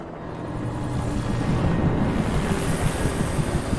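Helicopter in the video game Alan Wake Remastered, a steady loud rotor roar and wash that swells slightly as it passes overhead, with no talk over it.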